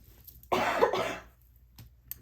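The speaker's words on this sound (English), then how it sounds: "the fact that I just coughed" A single person's cough, close and fairly loud, a short harsh burst lasting under a second, followed by quiet room tone and a faint soft click near the end.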